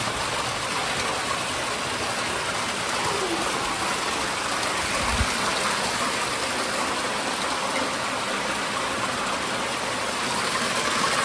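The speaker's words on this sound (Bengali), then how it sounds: "এখান থেকে জল বয়ে যাচ্ছে" Water flowing inside a cave, a steady broadband rush that goes on throughout without pause and fills the space, with no speech over it.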